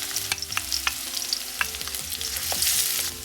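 Chopped shallots hit hot oil with mustard seeds, dried red chillies and curry leaves, crackling and sizzling up close while they are stirred with short scraping strokes.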